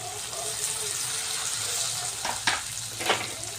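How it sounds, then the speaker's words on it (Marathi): Chopped red chillies and ginger-garlic paste frying in hot oil make a continuous close hiss, with a couple of louder bursts of sizzle toward the end and no speech. "आता इथे मी लाल मिरच्या घेतलेल्या आहे बारीक करून ह्या यामध्येच टाकायच्या आहेत"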